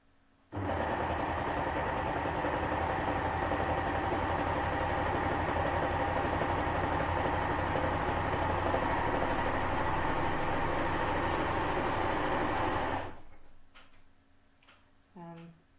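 An Amber Air S400 overlocker trims and sews two pieces of cloth in one steady, loud, continuous mechanical whir lasting about twelve seconds, then stops abruptly, followed by a few faint clicks and handling sounds.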